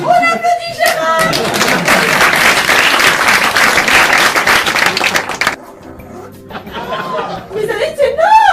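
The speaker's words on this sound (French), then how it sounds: "On applaudit Gérard!" Loud, dense applause from a theater audience at a comedy stage show fills the room for about five seconds, mixed with chatter and chuckles, then cuts off as a voice speaks over quieter laughter.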